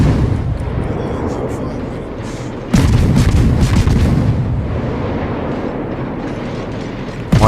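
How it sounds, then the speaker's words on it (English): Warship guns in World of Warships fire in steady spam volleys, a dense rumbling barrage of booms with a sharp louder salvo partway through, continuous and loud under faint game noise. "still spam firing on that line"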